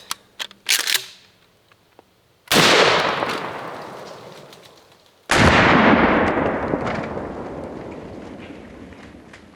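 Two loud, close shotgun blasts, 1-ounce slugs fired at cheap body armor, each a sharp boom that rings and decays over a few seconds, with a few faint clicks and taps beforehand.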